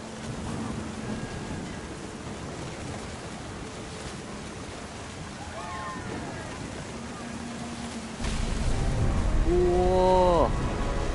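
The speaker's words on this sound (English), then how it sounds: "The thunder sounded much too close and full of angry power." A thunderstorm with steady rain hisses throughout a scene in What Remains of Edith Finch. Low rumbles roll beneath it, and a louder burst of sound swells near the end.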